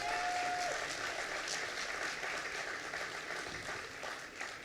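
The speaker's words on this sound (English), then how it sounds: "Let's give another round of applause to Governor Cuomo for this leadership." Audience applause for Governor Cuomo at the Johnson Community Center, steady, dense clapping that fills the room and continues throughout without a break.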